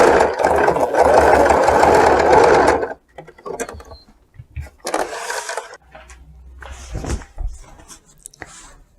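A sewing machine stitches a woven shoulder bag, working slowly after crossing a thick section. It gives a loud, steady motor whir for about three seconds, then stops, and a person talks over quiet handling sounds.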